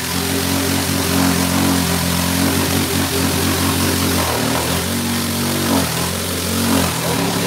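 A Numatic Henry HVR160 vacuum cleaner runs at high airflow, giving a loud, steady, engine-like roar with a buzzing drone that holds throughout, close to the listener.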